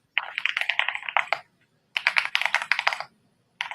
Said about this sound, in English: It sounds like you're typing with wooden fingers